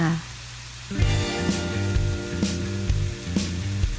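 Instant noodles with seafood sizzle and hiss as they are stir-fried in a hot pan, with steady frying noise under a voice and occasional stirring clatter.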